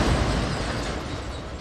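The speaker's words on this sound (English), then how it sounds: "They were followed by at least 3 other explosions." A dense, roaring explosion in Baghdad fills the whole sound, loud and sustained with rumbling low end and no voices.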